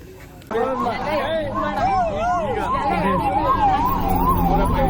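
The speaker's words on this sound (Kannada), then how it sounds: "ಫೈರ್ ಇಂಜಿನ್ ಬಂದಿದೆ ಈಗ" A fire engine's wailing siren rises and falls in steady sweeps, loud and close, with voices chattering underneath, at a village festival where a coconut tree caught fire.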